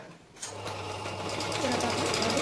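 A domestic sewing machine stitches the second side of a plain blouse, its fast steady whir starting after a brief pause and running continuously close up.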